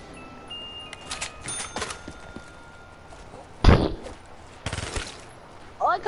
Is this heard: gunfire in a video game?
yes